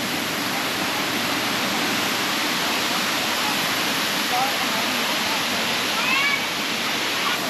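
The Phu Pha Sawan waterfall in Thailand roars as a steady, dense broadband rush that fills the whole stretch at constant strength, with a couple of faint, brief high calls rising over it near the end.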